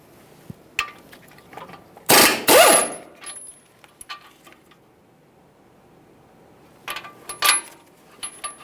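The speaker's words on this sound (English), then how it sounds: "Starting with the upper one, we'll fully remove it, start it back in just a couple threads" Wrench clicks and metal knocks while the upper 21mm mounting bolt comes out of a front strut on a 2015-2020 Ford F-150, in two short loud bursts of clattering separated by a quiet stretch with scattered faint ticks.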